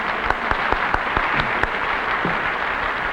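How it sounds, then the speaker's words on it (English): Studio audience applauding bandleader Red Nichols on a 1950s television variety show, a dense, steady wash of clapping with a few sharper individual claps standing out near the front. "Let's give Red another round of applause"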